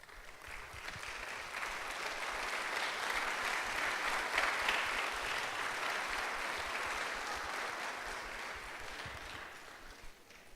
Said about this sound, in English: would y'all just stand at this time and be honored with a round of applause